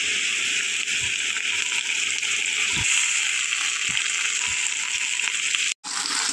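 Ginger garlic paste frying with onions in a hot pan, a steady close hiss of sizzling oil with a few faint clinks and stirring knocks, no talking.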